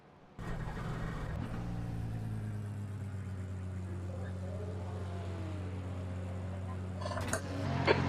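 Race car engine in iRacing, a Ford, droning steadily and loud with a strong low hum throughout, briefly rising near the end.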